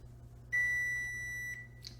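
A kitchen timer set while a frittata cooks sounds one sustained, loud electronic beep lasting about a second, then a brief fainter chirp, over a low steady hum.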